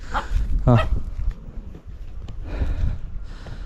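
Dogs at Chimmini Dam and Wildlife Sanctuary let out a brief yelp and a bark, mostly under people talking nearby.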